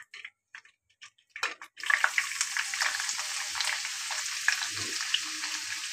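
Sliced onions hit very hot oil in a pan for a parwal (pointed gourd) vegetable dish. A few faint clinks come first, then a loud, continuous hiss and crackle of frying that keeps going with no talking.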